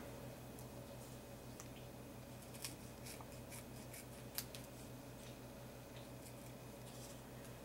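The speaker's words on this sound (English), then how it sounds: "I'm going to come in here now with a pair of scissors and just trim right against the" Quiet, scattered snips and crisp cutting clicks of scissors trimming paper against a drawer edge, irregularly spaced, over a steady faint background hum.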